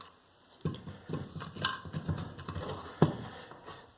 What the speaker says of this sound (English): It's going to go hit that stop and then start sucking in when you're screwing it.